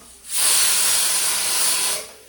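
A loud burst of hissing steam from a pressure cooker cooking rice, rising sharply, holding steady for about two seconds, then dying away.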